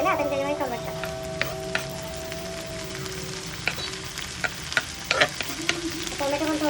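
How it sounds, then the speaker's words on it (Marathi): Chopped tomatoes sizzle and fry with onions in a pan, with steady crackling and repeated scraping strokes of a spoon stirring them, close and moderately loud. "टोमॅटो पण थोडंसं परतून घ्यायचं कांद्यामध्ये."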